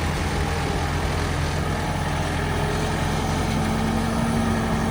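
JCB excavators work at a road construction site, a loud, steady low diesel engine rumble that drones continuously without clear breaks.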